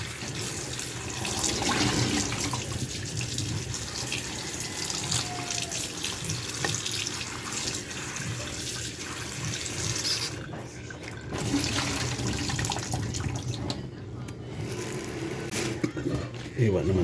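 Vegetables are washed under a running kitchen tap, water splashing steadily into a sink with brief shifts as the produce is handled, while someone talks over it.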